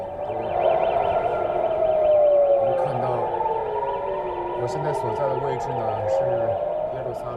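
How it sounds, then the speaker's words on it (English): Several air raid sirens across Israel wail, rising and falling in overlapping tones, loud and continuous, with faint background voices and noise beneath them. "Sirens rang across Israel as people were told to rush to bomb shelters."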